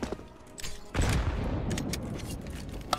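Counter-Strike gunfire: a quick burst of shots around the one-second mark, then a scattered rattle and a final sharp crack, fairly quiet and distant-sounding.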